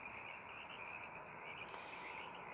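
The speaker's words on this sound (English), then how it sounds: "Almost all the time, when you hear frogs, like you'll hear Sierran tree frogs." A steady, continuous chorus of Sierran tree frogs croaking from some distance, forming an even trilling drone throughout with no voices.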